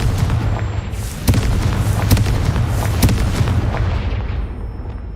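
Confringo spell explosions in Hogwarts Legacy burst out as a run of loud booms, several sharp cracking blasts over a rumbling, dense background, with no talk over them.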